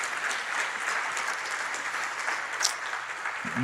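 A church congregation applauds during a Spanish-language sermon, a dense, even wash of many hands clapping that holds steady throughout the short stretch, with no speech over it.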